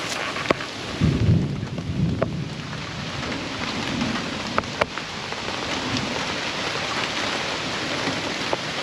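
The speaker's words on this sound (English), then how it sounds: "It's got a steady stream now. I don't think we're gonna get a real hard rain, but it's just one of those summer thunder showers." A summer thunder shower falls on and runs off a tarp in the woods, a steady, fairly close hiss of rain with a few sharper drips and taps, and a soft low rumble early on.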